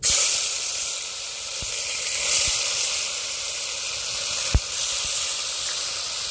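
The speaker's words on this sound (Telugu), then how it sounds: "నూనె అయితే బాగా వేడింది కదండి అల్లం కొబ్బరి చిన్నపై పేస్ట్ వేసుకుందాం" Ginger paste sizzles in very hot oil at the start of a chicken curry, making a loud, continuous close hiss. A single sharp click breaks in partway through, and there is no speech.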